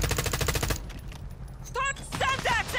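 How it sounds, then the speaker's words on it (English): Rapid automatic gunfire in a shooter video game, a loud close burst that stops after under a second, followed by a voice talking in the background. "I'm shooting them."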